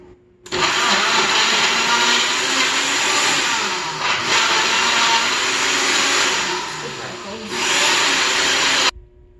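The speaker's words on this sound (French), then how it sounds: "je vais brancher mon mélangeur parce qu'il n'était pas branché, parce qu'il fait du bruit quand il est branché" A blender whirs loudly and steadily for several seconds blending strawberries, its pitch shifting slightly as it chops, then stops abruptly.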